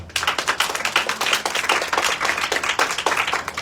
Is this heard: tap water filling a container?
no